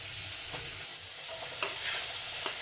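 Fish sautéed with chili powder and spices in soybean oil gives a steady close sizzle and hiss, with a few soft stirring scrapes of the spatula every second or so, no talking.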